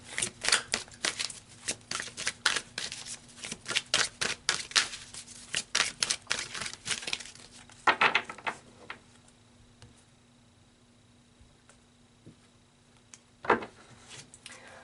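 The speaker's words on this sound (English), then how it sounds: "So let's pull some more cards." Tarot cards being shuffled, a rapid flurry of crisp card slaps and riffles for several seconds, then quiet with a few isolated card snaps as cards are drawn.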